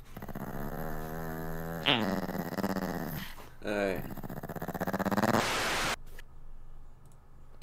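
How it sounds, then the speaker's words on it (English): A dog growls in long rumbling, revving bursts that resemble a motorcycle engine, loud and close, with brief breaks between growls before a sudden cut near the end. "That dog was making motorcycle noises."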